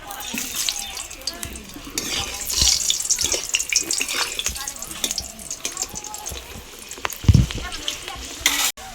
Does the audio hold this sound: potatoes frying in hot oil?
yes